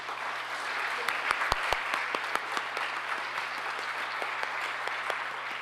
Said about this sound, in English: please give her a round of applause as she does so